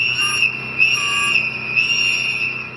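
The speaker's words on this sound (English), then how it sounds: "you see Miller making a move for Juan, blow that whistle" A shrill whistle is blown in a sustained, wavering tone, loud and close, with a few brief pulses in strength and no talking.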